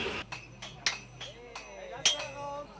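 A blacksmith's hammer strikes metal with sharp, ringing blows at an uneven pace, about six close by, with faint background noise between them.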